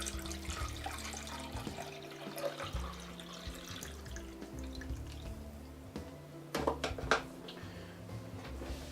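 Water is poured into a small desktop cooker for chicken ramen noodle soup, a continuous trickling and dripping pour with a few louder splashes near the end, close and fairly quiet.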